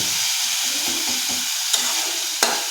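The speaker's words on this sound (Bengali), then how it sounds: "চিংড়ি শুকানো চিংড়ি যেটাকে বলে সেটা দিলাম এটা দিয়ে একটু ভাজি করব" Dried shrimp powder frying in a pan as it is stirred, a steady close sizzle broken by two sharp scraping clicks of the utensil.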